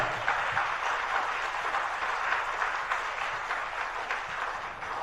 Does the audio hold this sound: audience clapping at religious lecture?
yes